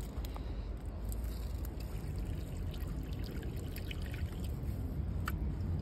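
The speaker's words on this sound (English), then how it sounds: "Just watered them." Water that has stood for 24 hours is poured from a hose or can onto fig trees in the ground outdoors. A steady, close pour and trickle runs for the whole stretch with no pauses.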